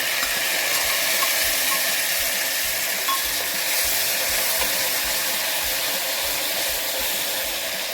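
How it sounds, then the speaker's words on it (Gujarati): Chopped tomatoes dropped into hot oil with popped mustard seeds for tempering, producing a loud, unbroken hiss and crackle that stays constant throughout, close and with no voices. "હવે આપણે એમાં આ ટામેટાનું જે ચોપ કરેલું છે એનો વઘાર કરીશું"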